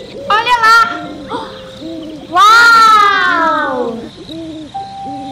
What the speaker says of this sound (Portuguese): Esse é o som de uma coruja, Peppa.